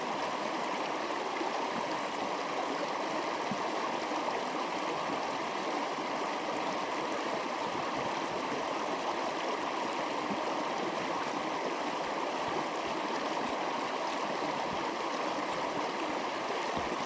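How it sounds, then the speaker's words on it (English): A Scottish Highland burn flows steadily, a dense, even rush of stream water that stays close and constant throughout with no voices. "There's two burns on this walk that are only crossable by going through them"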